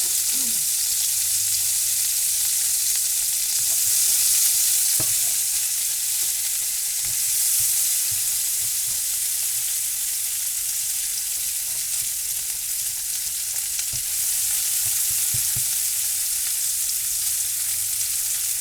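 Onion frying in a pan during a freeze-dried pork chop pantry meal, a steady close sizzle with occasional scrapes and knocks of stirring, no voices.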